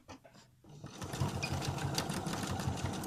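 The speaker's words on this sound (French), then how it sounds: "je vais commencer à coudre" A sewing machine stitching fabric for a zippered cushion starts up after a brief pause, then runs steadily and fairly close with a fast, even mechanical rattle and hum that continues to the end.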